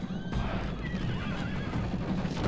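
Horses neigh and whinny in a video game battle, with a rumble of galloping hooves underneath, moderately loud and continuous without speech.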